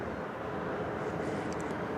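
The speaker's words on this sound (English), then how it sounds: "This plane once again, flight 2912, 737-900, going to the Delta home base of Atlanta, Georgia." A Delta Boeing 737-900 airliner's engines give a steady, broad roar from a distance at Indianapolis Airport, constant for the whole moment.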